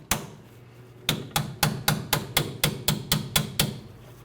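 Loosening a rear brake line fitting on a 1999-2006 Chevrolet Silverado 1500 gives one sharp metallic strike, a pause, then about ten evenly spaced, close and loud taps with no talking.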